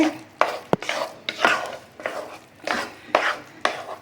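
Sweet pongal of old rice being stirred in a cooking pot, with a spoon scraping and knocking the pot in regular strokes, fairly faint and close, with no talk.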